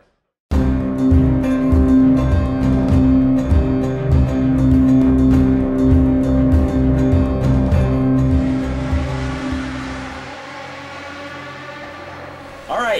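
Race cars roar around Fontana in the NASCAR '15 video game during a group qualifying session: a loud, dense, continuous engine drone from a pack of cars, easing off and thinning near the end.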